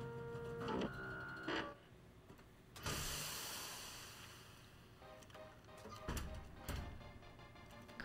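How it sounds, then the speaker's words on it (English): A 3D printer runs in the video game Watch Dogs 2, giving mechanical whirring and stepping tones with short tonal beeps, brief bursts of noise and clicks, all fairly close and without talk. "And interact with the printer."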